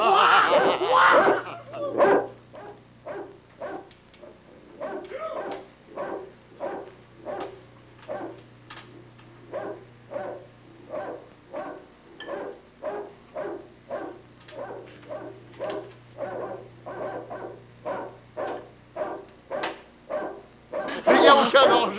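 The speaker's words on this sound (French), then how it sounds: "J'ai peur de le méchant chien, écoute." A cartoon dog barks in a long run of sharp, evenly spaced woofs, close and fairly loud, with voices at the start and end.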